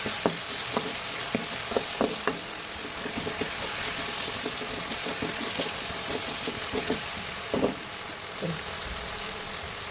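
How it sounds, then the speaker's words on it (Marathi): Chilli goes into a pan of onion and tomato frying in oil, giving a steady sizzle with scattered stirring clicks and scrapes, fairly close and with no talking. "टोमॅटो टाकलेला आहे आता टाकत आहे मी मिरची"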